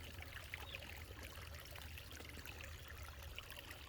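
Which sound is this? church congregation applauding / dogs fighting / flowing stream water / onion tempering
flowing stream water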